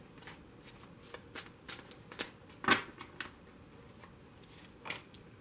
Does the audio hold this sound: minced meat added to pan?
no